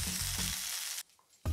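Eryngii (king oyster) mushroom fries in a pan with a soft, steady crackling sizzle for about a second before it briefly drops away and returns.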